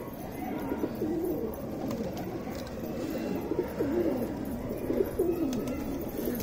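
Pigeons coo softly in a few repeated throaty calls over a steady background hum, fairly close.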